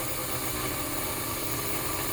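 A 1946-50 Seaboard coal loader engine running at about 80% throttle, a loud, steady mechanical drone with constant vibration and no talking.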